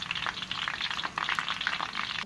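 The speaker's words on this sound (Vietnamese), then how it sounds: "Là mình bỏ chuối vô là dầu ngập chuối là mình để vậy" Green banana slices submerged in hot oil fry with a steady, dense sizzle and crackle throughout, close and fairly loud, no voices.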